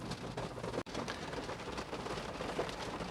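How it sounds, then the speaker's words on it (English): Steady rain falls outdoors around a car being checked at home, a dense continuous hiss with no voices and one brief dropout near the start. "the rain's not showing any signs of stopping"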